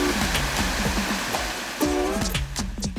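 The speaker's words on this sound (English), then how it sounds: "On the west end of the plot, there is a river." A year-round river flowing about five meters from a homestead plot boundary, a steady close rush of water with no talk over it.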